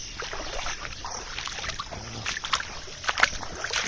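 Feet wade through ankle-deep water in a flooded field, making soft, irregular sloshing and splashing steps that grow louder toward the end, with faint outdoor ambience.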